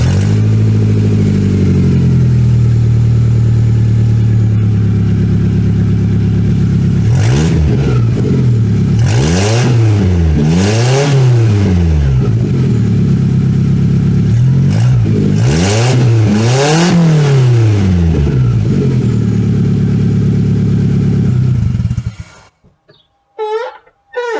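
A 1996 Toyota Camry 2.2-liter inline-four with no exhaust fitted cold-starts and idles loud and raw, then revs up and down several times in rising and falling sweeps before shutting off.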